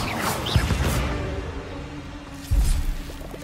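A fire-casting Incendio spell from the video game Hogwarts Legacy, heard as two loud whooshing bursts a couple of seconds apart over a low game soundscape.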